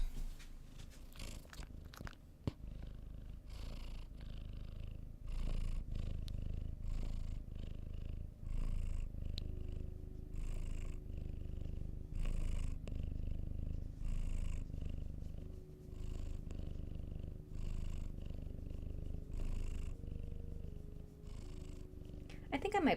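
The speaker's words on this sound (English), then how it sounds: "It's purr time." A cat purrs steadily and close for over twenty seconds, a continuous low rumble with a rhythmic pulse, while someone speaks softly over it now and then.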